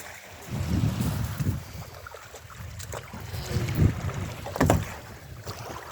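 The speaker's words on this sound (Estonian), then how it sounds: "Teine paat läheb vette." Small boat launched into the water at an outdoor seaside gathering, with rumbling scrapes and splashes in uneven surges under wind noise, fairly close and without speech.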